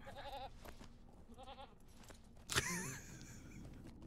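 Goats bleat in the Lord of the Rings Online video game, several short wavering cries in bursts over a low ambient background, with a sharp thud midway.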